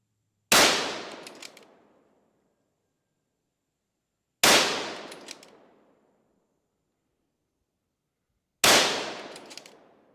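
Three loud, sharp rifle shots from a 6.5 bolt-action rifle with a 24-inch barrel crack out at a steady interval of about four seconds, each one decaying into a short echo, with no voices.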